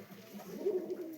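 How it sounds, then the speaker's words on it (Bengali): A giribaz tumbler pigeon gives a low, throaty coo, one rolling call rising and falling up close over a quiet background, with no talking. "এই একটা গিরিবাজ পায়রা দেখুন"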